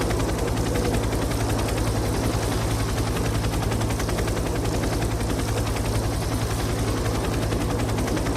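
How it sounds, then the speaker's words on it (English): A helicopter's rotor beats with a fast, even thumping and a steady engine drone in the video game Project IGI, continuous and moderately loud throughout, with no talk. "we can pick you up by chopper and fly directly to the military airbase"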